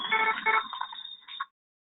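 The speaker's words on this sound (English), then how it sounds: "the sound of a tea kettle might tell you that your patient's temperature is getting too high" A short electronic alert tone with a whistling, tea-kettle-like pitch, used as a high patient temperature alarm, sounds for about a second and a half, then cuts off to silence.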